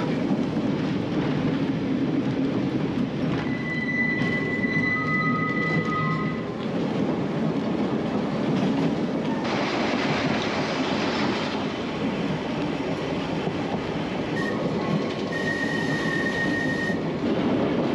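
A Manx Electric Railway tram rolls steadily on the long descent into Laxey, Isle of Man, with a constant rumble of wheels on rails, and high brake and wheel squeals come and go over it.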